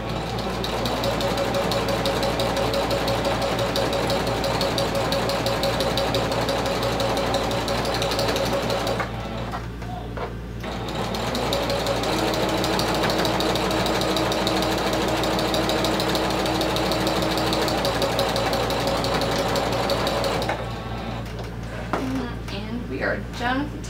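A domestic sewing machine stitches a vinyl clutch wallet with a steady mechanical whir and rapid needle chatter, close and loud. It pauses twice briefly and runs under occasional talk.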